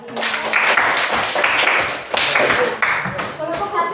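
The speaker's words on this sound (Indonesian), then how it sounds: "Tepuk tangan tuh kelompok 1 lagi" A classroom of students claps hands in uneven bursts that rise and fall, fairly close and loud, with a voice speaking over part of it.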